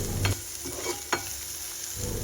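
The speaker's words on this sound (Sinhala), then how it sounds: "දැන් මේ ටික නැවත හොඳින් කලවම් කරගන්න." Spicy pasta ingredients with chili flakes and salt are stirred in a hot pan, a gentle sizzle underneath two sharp scraping strokes of the spoon, close and moderately quiet with no talking.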